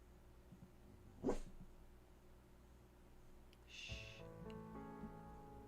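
A small dog gives one sharp, close bark outdoors at night, followed by quiet and a few faint snorting sounds.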